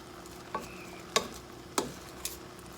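Onions fry with beef in a stew pot under a low steady sizzle, with a few distinct scraping stirs of a utensil spaced about half a second apart, close and fairly quiet, with no voices.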